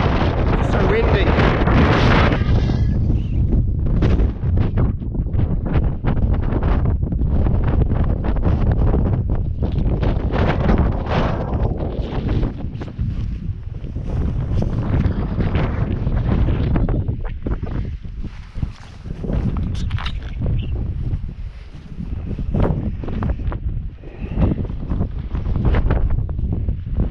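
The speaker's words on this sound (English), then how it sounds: "so windy." Strong gusting wind on an exposed hillside in the Scottish hills batters the microphone in loud, continuous roaring buffets that rise and fall throughout, with occasional muffled speech beneath it.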